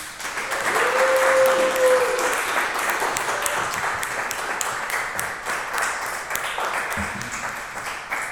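Audience applause after a literature reading at an arts festival showcase, a steady wash of many hands clapping that stays loud throughout, with a brief tonal ping near the start.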